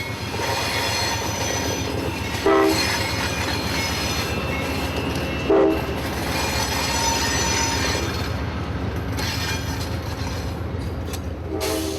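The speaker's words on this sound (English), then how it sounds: "That's Amtrak 97, the Silver Meteor, coming off the Coastline Main onto the connection track known as the Can Yard Lead." Amtrak 97, the Silver Meteor passenger train, rolls through a curve on a connection track in Auburndale, Florida. Steady close rumble of cars and wheels runs throughout, with repeated flange squeals and a brief horn-like tone.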